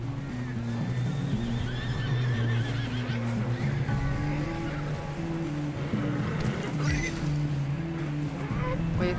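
A horse in Red Dead Redemption 2 whinnies and snorts over a rolling, wash-like background, with hooves clopping faintly and repeated neighing calls through the stretch.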